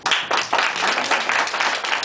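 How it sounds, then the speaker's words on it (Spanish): Brief round of clapping and applause from a small audience for a newborn cousin's coming baptism, dense hand claps filling about two seconds, fairly close and steady with no talk over it. "Un aplauso para Iñaki."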